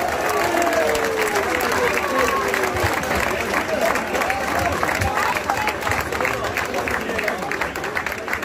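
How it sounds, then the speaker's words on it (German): A crowd at a SV Waldhof 07 stadium festival applauds continuously during a team presentation, a dense steady patter of clapping with some voices mixed in. "Also, dein Applaus, unser 12, Morten Behrens."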